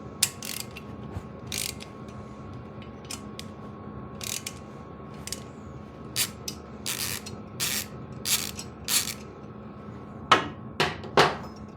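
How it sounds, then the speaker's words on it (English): A torque wrench ratchets while tightening cylinder head bolts on a generator with a new gasket, giving intermittent sharp clicking bursts that quicken toward the end over a quiet mechanical hum. "we'll get to torquing everything down"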